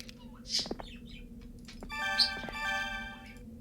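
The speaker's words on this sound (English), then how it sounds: "Those are sweet budgie noises." A pet budgie chirps close by in short bright calls and then a longer warbling, tonal run, heard over a steady low hum with no talking.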